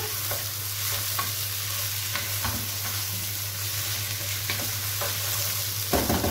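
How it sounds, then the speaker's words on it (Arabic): Rice and yellow lentils with onion being stirred in a pan of ghee and oil, giving a steady close scraping and shuffling with a constant low sizzle, ending in a louder scrape. "هبدا اقلب الرز بالعدس بالشكل ده مع البصلايه"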